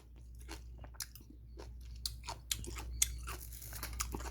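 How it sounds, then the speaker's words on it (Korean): Radish greens and radish from freshly made nabak kimchi crunched between the teeth, a series of crisp, close bites and chews at irregular intervals over a quiet background. "무가 이렇게 아삭거리면서"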